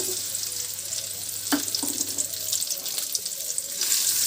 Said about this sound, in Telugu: ఆయిల్ని యాడ్ చేసుకున్న తర్వాత తరిగి పెట్టుకున్నటువంటి ఉల్లిపాయల్ని కూడా వేయించుకోవాలి